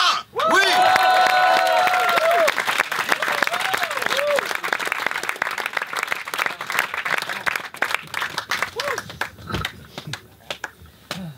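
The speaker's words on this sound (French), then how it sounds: "faites un tonnerre d'applaudissements pour Valentin !" A comedy club crowd bursts into loud applause and cheering as a first-time stand-up comedian takes the stage, whistles and shouts over dense clapping that gradually thins out toward the end.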